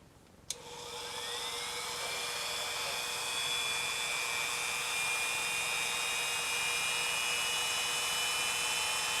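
A Dremel rotary tool spins up with a sharp click and settles into a steady high whine while drilling a plastic Star Wars snowspeeder model kit, sustained and close throughout.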